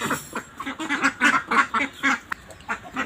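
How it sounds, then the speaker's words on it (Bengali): Village ducks clamor for food, a rapid run of nasal quacks repeating in uneven bursts, fairly close and loud with no talk over them. "এই যে হাঁস খাওয়ার জন্য অনেকক্ষণ ধরে চিল্লাচিল্লি করতেছে হাঁসগুলি।"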